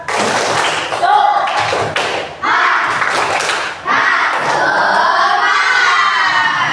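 Classroom children chanting a rhythmic spirit clap together, loud shouted voices with claps and thumps in bursts, pausing briefly between phrases before a longer sustained chant.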